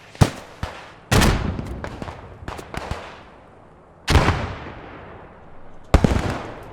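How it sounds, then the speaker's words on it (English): Sharp, loud rifle shots in the Post Scriptum game crack out singly at uneven intervals, several ringing with long echoing tails across open ground, some nearer and heavier than others. "They're now shooting."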